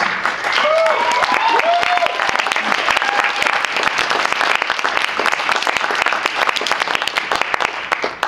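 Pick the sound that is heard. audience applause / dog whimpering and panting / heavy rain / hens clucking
audience applause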